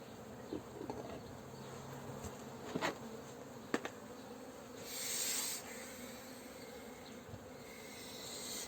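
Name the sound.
honeybees buzzing at an aggressive beehive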